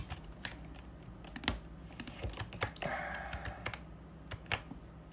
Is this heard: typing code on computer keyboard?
yes